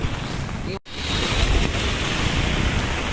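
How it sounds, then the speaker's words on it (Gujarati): Floodwater rushes steadily during monsoon rain in Junagadh, a dense broadband roar that runs continuously and fairly loud after a brief dropout near the start. "અત્યારે પાણીનો ફ્લો તો વધી ગયો"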